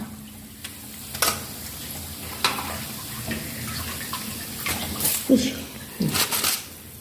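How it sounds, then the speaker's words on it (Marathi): Vada pav vadas frying in hot oil give off a soft, steady sizzle with scattered clinks and scrapes of a utensil, while a voice talks over the cooking. "अशा पद्धतीने सर्व वडे तळून घेऊया."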